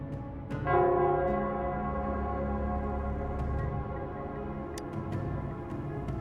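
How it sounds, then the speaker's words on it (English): A bell in the town square of Wuthering Waves tolls with a sustained, resonant ring that hangs over a busy game-world background, with a few faint sharp clicks and no talk. "it's the Nell Squares bell."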